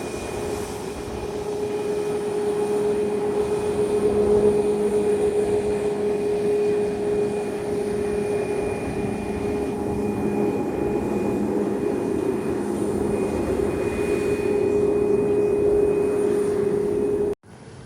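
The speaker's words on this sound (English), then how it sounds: "next up we have American Airlines Flight 1329 heading to Miami on a 737 MAX 8. Now coming up for a north side departure." American Airlines Boeing 737 MAX 8 jet on a north side departure, a steady, loud engine roar holding throughout with a high whine on top, then cutting off abruptly at the end.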